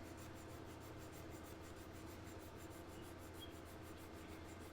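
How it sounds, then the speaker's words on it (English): Coarse sandpaper rubs steadily back and forth across a surface during model bodywork, a soft, even rasp with a regular rhythm, faint and close, with no talking. "We'll keep sanding on it till we get it down."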